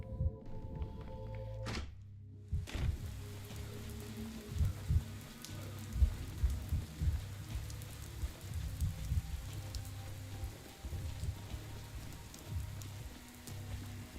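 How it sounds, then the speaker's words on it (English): Steady rainfall in the video game Pathologic 3, a soft continuous patter with low thumping drops and a couple of sharp knocks near the start, fairly quiet and with no talk. "The kids love sitting around in the rain."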